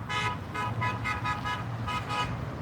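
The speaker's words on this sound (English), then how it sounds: "Honking for support." Car horns honking in support of a roadside demonstration: repeated short honks and toots in an irregular rhythm over steady traffic noise, moderately loud and fairly close, with no one talking.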